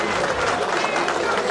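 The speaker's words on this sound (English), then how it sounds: "Please give her another round of applause" A crowd at a memorial tribute and eulogy gathering applauds in a dense, steady wash of clapping that fills the whole moment, with no pause or rise in intensity.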